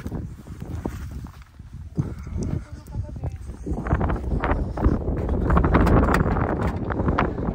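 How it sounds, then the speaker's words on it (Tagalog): Steady low rumbling wind buffets the microphone outdoors at a campsite, growing stronger toward the end, with a few scattered knocks and rustles mixed in. "kasi medyo mahangin, sobrang hangin talaga dito"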